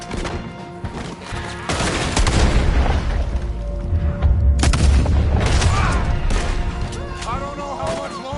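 Video game gunfire and booming blasts in a dense, sustained barrage, loud and continuous with overlapping shots, voices talking over the fighting.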